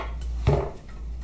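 A single light metallic tap on a tag of a Harley-Davidson Twin Cam 88ci oil pan during an engine strip-down, one short knock close by over a low steady hum.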